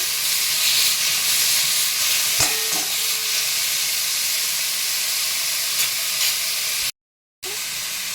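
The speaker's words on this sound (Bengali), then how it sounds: "এবার একটু নাড়াচাড়া করে নেব" Greens cooking down in a pan with turmeric and salt give off a steady hissing sizzle, with a couple of utensil taps while they are stirred, close and even, cut by a brief dropout near the end.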